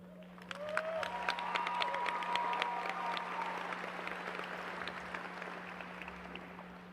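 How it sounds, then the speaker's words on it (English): Sustained applause from a large audience at the Hutto High School 2019 graduation ceremony, swelling quickly and holding steady for several seconds with a few faint whistles. "Let's please give them another round of applause."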